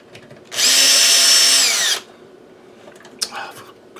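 Power screwdriver backing screws out of an Agilent E4406A instrument chassis. A single loud, close whirring burst lasts about a second and a half and then stops, followed by faint handling clicks.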